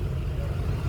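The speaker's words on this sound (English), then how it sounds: "It's a Studebaker, ladies and gentlemen, right there." A Studebaker car rolls past during a tractor parade, heard as a brief, low, moderately loud engine rumble.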